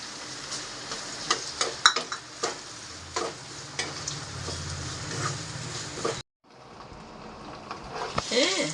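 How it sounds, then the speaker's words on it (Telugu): Prawns frying with onions and green chilies in a pan for a Godavari-style gongura curry, an even sizzle broken by sharp stirring clacks, cutting out briefly before the frying resumes. "ఇప్పుడు రొయ్యలు యాడ్ చేస్తాం"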